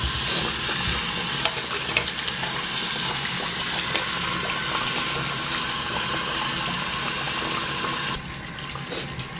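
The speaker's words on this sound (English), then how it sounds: "While the water was running," Steady stream of tap water running into a household sink that won't drain, continuous and fairly loud, with faint clatter from cleaning in the basin and no talk.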